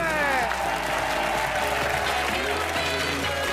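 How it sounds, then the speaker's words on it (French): An audience claps at a Christmas charity show, continuous applause layered under sustained music tones, fairly loud and even throughout. "On applaudit fort Élodie"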